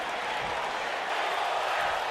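Steady cheering from a wrestling arena crowd in an AEW game, a continuous dense roar with faint swells and no pause, sounding broad and fairly loud.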